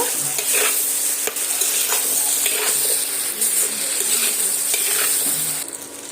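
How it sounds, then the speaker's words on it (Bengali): Potatoes frying in a pan with salt and turmeric for a Bengali thin egg curry, a steady close sizzle with intermittent scraping stir strokes throughout, fading slightly at the end. "এবার আলুগুলো সময় নিয়ে আলুগুলো লালচে রং ধরে ভেজে নেব"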